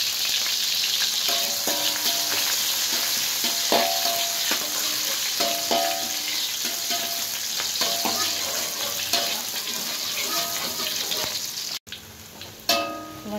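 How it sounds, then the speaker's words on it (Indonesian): Shallots sizzle and crackle steadily in hot cooking oil while being stirred, with repeated scraping and clinking of a spatula against the pan over continuous frying hiss. "setelah minyak panas kita masukkan bawang merahnya dulu."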